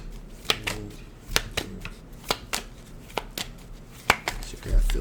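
Tarot cards are shuffled in a run of crisp, sharp slaps and riffles that repeat irregularly, close and fairly loud, with a soft low background hum between them.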